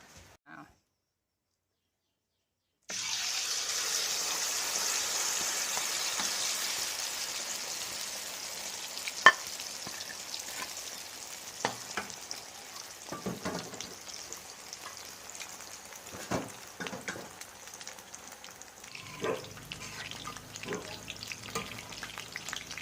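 Crab fish cakes (thot man pu) deep-frying in oil set off a sudden steady bubbling sizzle with scattered crackles and pops, sometimes with faint scraping, which continues without any voices.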